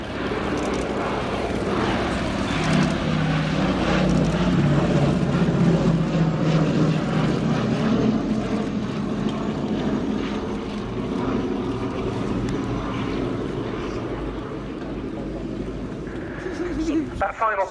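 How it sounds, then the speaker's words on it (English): A Boeing B-17G Flying Fortress, Sally B, making a low display pass at the RIAT 2017 airshow with smoke on two engines, its radial piston engines droning loudly and steadily throughout while a commentator speaks over the sound. "And here we see it with smoke on 2 engines, simulating an aircraft returning from a raid."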